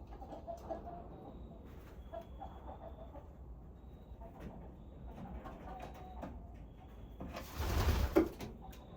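Racing pigeons in the cock section of a loft give soft, faint cooing and rustling, quiet throughout, with a brief louder scuffle or flap near the end.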